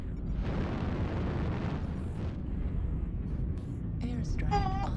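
A video game airstrike explosion lets out a deep, loud rumbling blast that rolls on for several seconds, with squeaky electronic chirps near the end.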